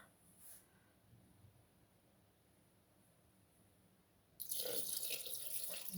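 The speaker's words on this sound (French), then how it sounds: "maintenant, on ajoute l'eau." Water pours into a Thermomix bowl while chicken jambalaya is being made, a steady loud rushing splash starting abruptly after a quiet stretch of kitchen background.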